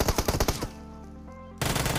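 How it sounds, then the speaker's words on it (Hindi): Rapid automatic gunfire rattles in a Free Fire match, with a fast burst of loud shots, a short pause with a lingering tonal game sound, then another dense burst. "बंदा फ्री फायर नहीं दे रहा है, गोली चला रहा, डरा रहा है मुझे"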